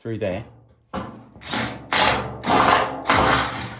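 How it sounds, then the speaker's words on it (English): A power drill bores holes for an Easter bonnet build in several short, loud bursts of whirring, each rising and stopping in turn, with someone briefly speaking at the start. "I've got to drill them with this drill"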